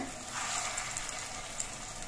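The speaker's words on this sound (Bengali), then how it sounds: "আমি বেশ কয়েকটা বড়া একসঙ্গে দিয়ে ভেজে নিচ্ছি।" Small lentil fritters (bora) fry together in oil over a lowered gas flame, a soft, even sizzle that stays fairly quiet and continuous.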